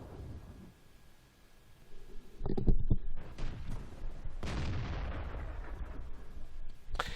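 In World of Tanks, a Grille self-propelled artillery gun fires with a deep boom and a rolling blast, followed by a sustained rumble. Low game engine noise sits under it, and a second loud burst comes near the end.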